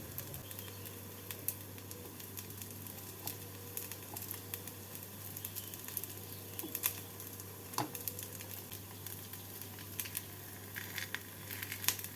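Chicken potato tikia frying in a pan gives a soft, steady sizzle with fine crackles and pops scattered throughout, quiet and close, with no talking.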